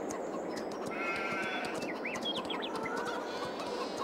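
Flock of sheep in Farming Simulator 22 on a farm, with several high bleats and calls scattered over a steady, dense background ambience of other farm animals.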